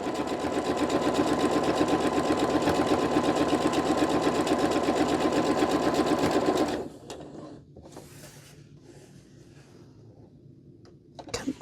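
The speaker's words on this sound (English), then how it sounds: "you're going to sew 1/4 inch on both sides of the line." A sewing machine runs steadily and close for about seven seconds, stitching quarter-inch seams on a quilt block, then stops and leaves quiet handling sounds and faint clicks.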